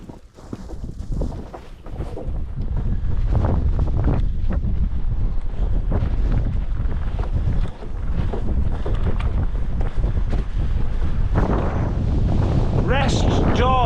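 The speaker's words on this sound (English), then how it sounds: "windy again." Strong freezing winter wind buffeting the microphone on an exposed Lake District fell, a loud continuous roaring rush with gusty surges, a brief lull near the middle and some faint speech underneath.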